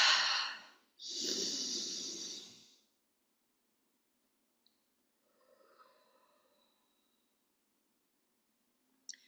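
Two long, deep breaths during a breathwork exercise, an audible inhale then a longer exhale, followed by near silence with a faint softer breath and a small click at the end.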